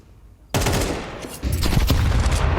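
Sustained UMP submachine gun fire in Counter-Strike 2 during a pro match, a dense loud burst that swells partway through with overlapping shots and no talk over it.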